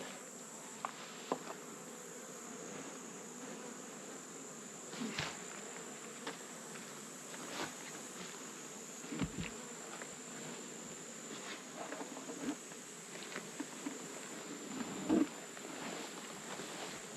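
A few scattered honey bees buzzing around an opened beehive, faint sporadic wing hums rising and fading over a soft constant background.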